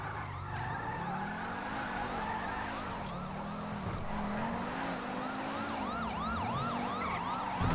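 Police sirens in a GTA V chase wail and cycle continuously, several overlapping, loud and close over a steady engine roar from a 1995 Mitsubishi Eclipse with tire skids.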